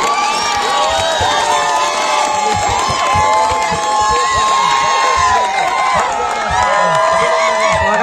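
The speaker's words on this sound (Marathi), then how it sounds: "जरा जल्लोष चालू आहे." A crowd at a night kabaddi tournament cheers loudly and continuously, with shouting, whoops and excited voices layered over one another close by.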